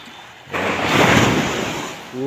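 Strong surf rolling onto a beach at a resort in Davao Oriental, a broad roaring wash that swells after a quieter start and holds steady, with wind noise on the microphone and a brief voice at the end.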